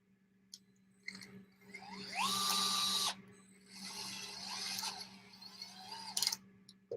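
Screws driven into plastic on an Axial RC kit with a small powered driver, two short whirring bursts of a few seconds each with brief clicks between, fairly quiet and close, no talking.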